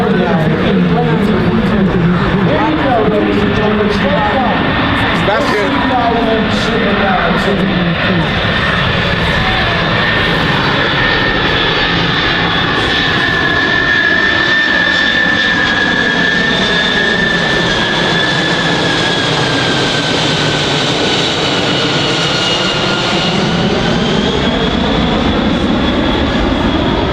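A loud, sustained roar of a C-5M Super Galaxy's jet engines passing nearby at an airshow, with shifting whine and tonal sweeps as the aircraft moves, drowning out a voice.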